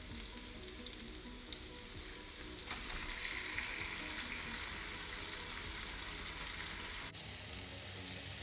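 Steady, faint sizzle of beef frying in a pan with spices for teriyaki, a continuous hiss with a few small stirring knocks, no voices.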